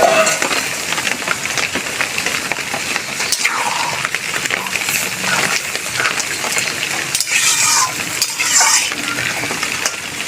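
Vegetables frying in a pan with water poured in for a Bengali vegetarian chhechra, a steady close sizzle and bubbling with frequent stirring and scrapes of a utensil against the pan, no talk.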